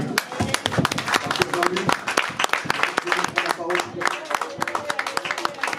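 A church congregation at a Sunday service applauds with scattered sharp claps and cheering voices, dense and sustained, with people talking through the noise.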